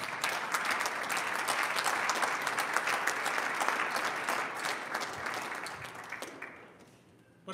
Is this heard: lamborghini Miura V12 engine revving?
no